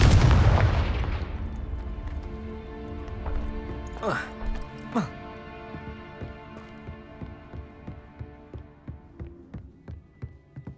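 Confringo fire spell blasts in the Hogwarts Legacy video game: a loud booming burst at the start, then sweeping magical whooshes and a string of rhythmic thuds fading over game music.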